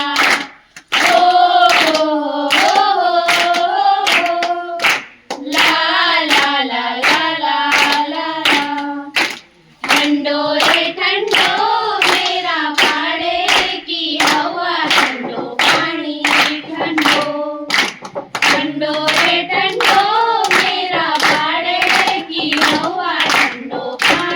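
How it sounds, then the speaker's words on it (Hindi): Steady rhythmic hand-clapping keeps time beneath a singing voice and melodic accompaniment at a stage event of a science fair, with the clapping continuing throughout and only brief pauses. "थोड़ा इनको ताली दे दीजिए, हल्की हल्की हल्की हल्की"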